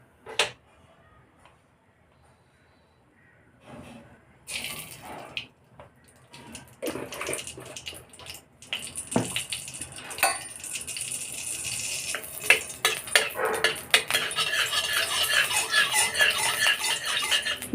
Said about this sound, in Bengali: এবার আমি এই কাজু বাদাম কিশমিশটা দিয়ে ভেজে নিচ্ছি।